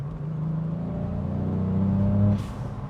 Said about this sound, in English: So it's just like the exhaust you're hearing